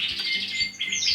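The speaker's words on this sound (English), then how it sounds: "the birds are singing still" Norwich canaries in an evening bird room give a bright, continuous warbling song with overlapping high trills and chirps, loud and close, with no voices.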